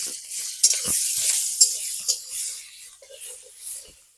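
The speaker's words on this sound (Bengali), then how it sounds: "পেঁয়াজটাকে আমি ভালো করে ভেজে নেব চলো ভেজে নিই" Onions frying in a pan with a steady sizzle and occasional scraping stirs; a voice murmurs briefly near the end.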